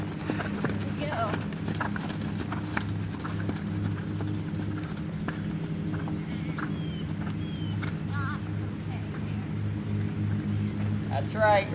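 A horse being ridden in a lesson canters with steady, rhythmic hoof clip-clops close by, while an instructor's voice talks over the hoofbeats throughout.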